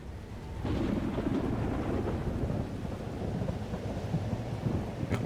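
Thunderstorm in the video game Life is Strange: Double Exposure: a steady, loud wash of rain and rumbling thunder fills the scene, with a heavier roll building after the first half second and continuing without speech.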